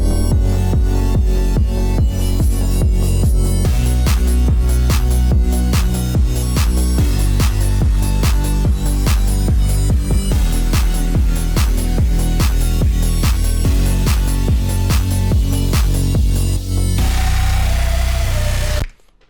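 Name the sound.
EDM track with white noise tension build-up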